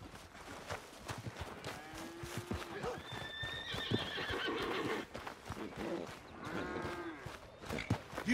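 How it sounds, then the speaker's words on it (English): A horse in the Red Dead Redemption video game, on a farm, gives loud, close whinnies amid rhythmic hoof clip-clops, with the neighs rising twice through the stretch over other game sounds. "Need a hand with that horse?"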